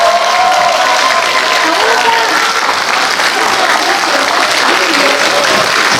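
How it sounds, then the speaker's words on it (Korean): Audience applause at a live talk event for the film 1987, a dense, loud, sustained clapping from a large crowd with faint voices beneath. "박수 부탁드립니다."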